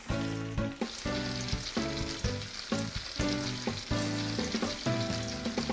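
Korean hot dogs coated in hash brown and egg-dipped bread crackle and sizzle in a shallow pan of oil while being rolled, with loud, close, uneven bursts of popping and bubbling and no talking.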